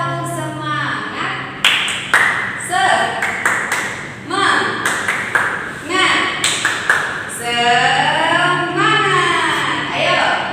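Tepuk semangat, a rhythmic clapping chant led in a classroom, with bursts of sharp claps in short patterns between loud chanting voices.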